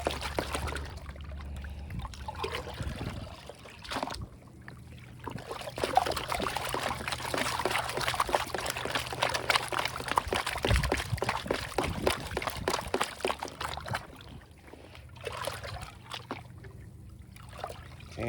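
Hot water poured from a bucket during gold prospecting by a flooded river, a steady splashing, trickling pour close by that runs for several seconds, then thins to dribbles.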